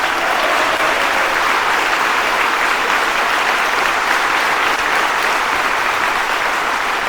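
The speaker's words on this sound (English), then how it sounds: "Would these people please stand and let's give them a round of applause." Sustained applause from a seated crowd honouring track coaches at a sports complex dedication ceremony, a dense, steady wash of clapping that holds at full strength for the whole stretch with no talk over it.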